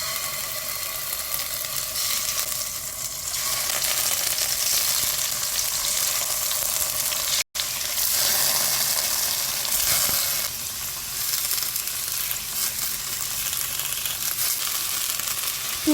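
Tofu fries in cooking oil with a spoon of sesame or perilla oil in a heated pot over high-to-medium heat, giving a loud, steady sizzle that runs throughout with one brief break midway.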